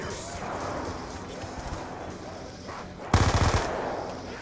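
Machine gun fire in Black Ops 2 Zombies comes as a sudden, loud, rapid burst of about half a dozen shots near the end, after quieter game ambience with a player talking earlier.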